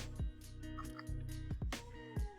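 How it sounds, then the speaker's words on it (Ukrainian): Water drips and trickles while a BORT BDR-1500 RR compact steam cleaner is filled, a run of close, quiet, irregular plops and splashes with a faint gurgle behind, no voices. "вода стікає"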